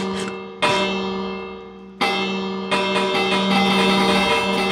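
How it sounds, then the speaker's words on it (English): A school bell in the Minecraft video game rings out loudly in three successive long, sustained metallic peals, each struck anew and decaying slowly, with no talk over it. "That's the bell when the school's over."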